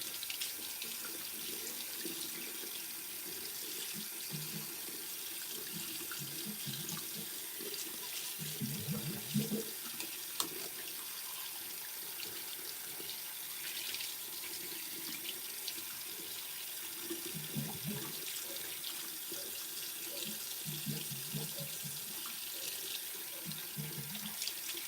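Kitchen tap running water into a sink, a steady close stream with occasional splashing changes as hands or dishes move under it, no speech.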